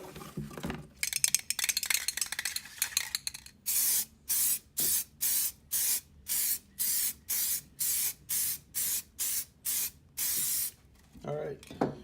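An aerosol can sprays a coat of paint onto car wheel hubs in a run of short, even bursts of hiss, about a dozen evenly spaced sprays, after some earlier clinking and handling.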